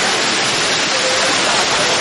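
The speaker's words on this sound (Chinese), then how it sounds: "汽车强行通过，激起大片水花" Cars push through a road flooded about half a tire deep after a sudden early-morning downpour, throwing up big sprays of water. A loud, dense, unbroken rush of splashing and falling water fills the whole stretch.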